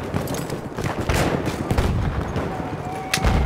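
Rapid gunfire in the video game Battlefield 1: a dense burst of overlapping shots and bangs, loud and close, continuing throughout the few seconds with chaotic battle noise.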